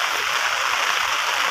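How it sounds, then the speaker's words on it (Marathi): Heavy monsoon rain over a village paddy field at rice-planting time, a dense, steady wash of loud hiss with no breaks. "ते बघा आज भरपूर असा पाऊस चालू आहे"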